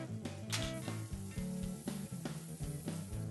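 Butter and olive oil sizzle steadily in a frying pan, a soft continuous hiss close by with music playing underneath.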